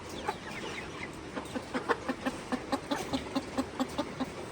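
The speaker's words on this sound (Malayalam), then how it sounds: "ഇത് റെയിൻബോ റൂസ്റ്റർ." A two-month-old Rainbow Rooster chicken in a farm cage clucks in a quickening run of short, evenly spaced clucks, close and clear against faint farmyard background, with no speech.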